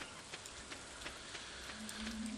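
Light rain in Stardew Valley patters softly and steadily on the ground, with faint scattered droplet ticks over a quiet background.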